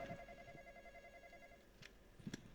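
A telephone rings inside the Roblox game Midnight Train, a quiet, repeating electronic tone with steady pulses and no voices over it.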